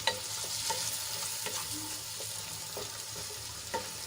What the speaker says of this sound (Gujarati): એ એડ કરી દઈશું અને ડુંગળીમાં સરસ રીતે મિક્સ કરી લઈશું